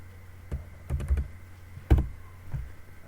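Several light clicks of keys on a computer keyboard while typing the letter A in a sketching program: a few isolated taps, then a short cluster, then more single presses, close and fairly quiet.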